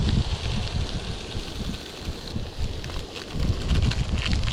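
Gusty wind buffets the microphone on a deserted, uninhabited island during outdoor cooking, a rough low rumbling that swells and eases in uneven waves over several seconds.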